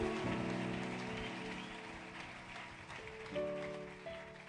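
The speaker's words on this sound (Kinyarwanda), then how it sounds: "Let us give Him a mighty hand clap." A church congregation claps hands in a dense, sustained patter like heavy rain, with instrumental music playing underneath.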